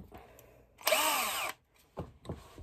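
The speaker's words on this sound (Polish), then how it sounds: "I wiercę dziurki." Power drill boring holes during a camper van build: a loud whining burst of drilling lasting about half a second, followed by two shorter quieter spurts of the motor.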